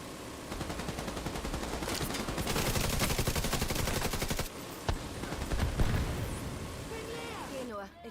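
Gunfire from the video game The Division 2 crackles in rapid automatic bursts for several seconds, then a few separate single shots, with a person talking over the action.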